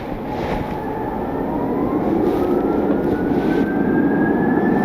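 A jet airliner rolls down the runway on takeoff, a steady distant roar with a slowly rising engine whine building over several seconds, with no voices.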